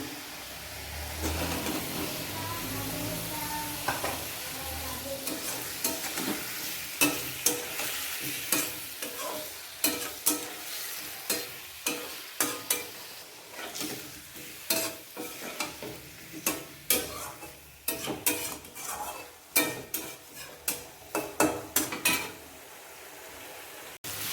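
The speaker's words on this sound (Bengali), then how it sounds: "এই মশলাটার মধ্যে আমি কোয়াশটা ভেজে নেব।" Boiled squash fries in spice paste in a pan, sizzling steadily as a spatula stirs and scrapes again and again, the strokes coming in quick, close, repeated bursts with no talking.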